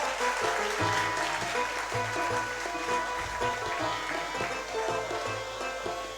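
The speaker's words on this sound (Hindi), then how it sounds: "जोरदार ताली बजाएं" Applause rises from the audience at a 2019 workers' honour awards ceremony, a continuous dense clapping wash carrying over a steady tonal hum, moderately loud and unbroken throughout.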